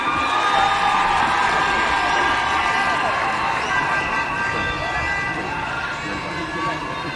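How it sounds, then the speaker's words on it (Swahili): A large audience at a swearing-in ceremony at KICC cheers and applauds in a loud, steady roar that fills the whole stretch without pause, with whoops and shouts blended into the din. "Makofi tafadhali."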